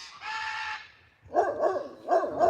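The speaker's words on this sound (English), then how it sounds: "Here come the big dogs." Dogs barking in short bursts at close to moderate range on a horse trail ride, two clusters of several barks each, following a brief honking animal call that resembles a peacock or goose.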